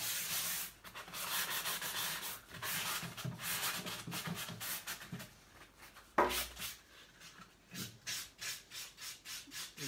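Painted wooden furniture is sanded by hand in quick, repeated rasping strokes, a close, fairly quiet scratchy rhythm that pauses briefly and resumes.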